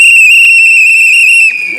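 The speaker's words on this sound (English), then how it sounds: "You know, these whistles are ringing loud." A loud, steady, piercing whistle is blown in celebration of a correct poll result during election vote counting, one long sustained blast that breaks off near the end.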